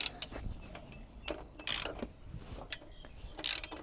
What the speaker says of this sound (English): So it's a 14mm socket to remove the bottom bolt of your rear shocks.